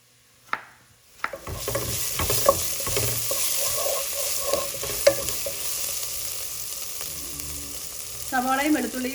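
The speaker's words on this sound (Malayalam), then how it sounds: "സവാളയും വെളുത്തുള്ളിയും നന്നായിട്ട് മുരിഞ്ഞിട്ടുണ്ട്" Onions and garlic sauté in a pan with a steady close sizzle, punctuated by several sharp clacks of a utensil stirring and scraping, a brief voice-like squeak near the end.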